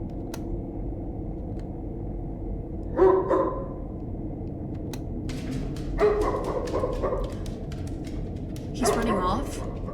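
A dog in a horror video game barks in short separate bursts, three clear yips spaced a few seconds apart, fairly close and distinct over a quiet ambient background.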